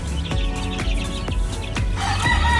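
Chicks kept in a cardboard box lined with leaves at night, chirping and peeping loudly and continuously close by, a dense overlapping chorus with no talking.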